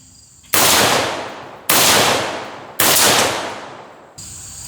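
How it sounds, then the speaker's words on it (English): An AR-15 rifle firing 55 grain full metal jacket M193-type ammunition, unsuppressed: three loud, sharp shots spaced about a second apart, each with a long decaying echo, followed by a fourth quieter report at the end. "this is what it sounds like shooting 55 grain, full metal jacket,"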